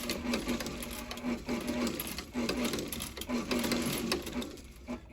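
A sewing machine stitches binding onto a vintage Gucci bag, running in a steady rapid whirring rhythm with brief stops and restarts, close and clear with no talk.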